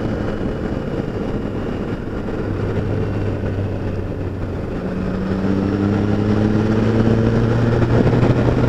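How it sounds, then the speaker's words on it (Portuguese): Tiger Sport 660 motorcycle engine ridden through road curves, a steady close engine drone whose pitch climbs as the bike accelerates toward the end, with wind rush throughout. "vou mostrar para vocês como a motoca é de curva"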